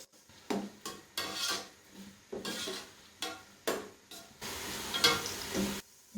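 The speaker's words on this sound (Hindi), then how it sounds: "गोल्डन कलर आने तक प्याज को फ्राई करेंगे।" Onions frying with whole spices in a pan for degi beef biryani: a steady sizzle under repeated rhythmic scrapes and clanks of a spoon stirring against the pot.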